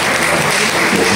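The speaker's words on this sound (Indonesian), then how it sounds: "Mohon tepuk tangan beliau untuk beliau." Loud, dense applause from a crowd at a formal public gathering, a brief continuous burst of clapping that stays even throughout.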